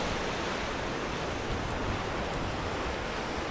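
Ocean waves break on coastal rocks at sunrise or sunset, a constant broadband roar of surf and churning water at steady volume, with no voices.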